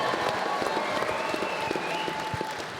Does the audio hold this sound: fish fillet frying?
no